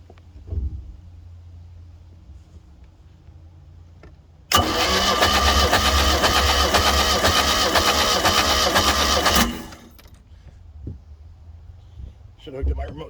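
Glastron Carlson CVX-16 boat engine cranking over steadily for about five seconds during a compression test, loud and close, with quiet pauses before and after.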